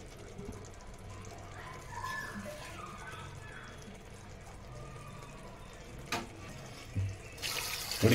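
Water pours steadily into a cooking pot while mushroom biryani is made Bangalore style, a continuous splashing stream at close range with a few soft clinks near the end.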